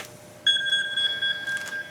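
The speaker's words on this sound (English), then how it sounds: "I'm getting a phone call" A telephone rings with an electronic warble, one continuous trill of about a second and a half over quiet room noise, moderately loud and close.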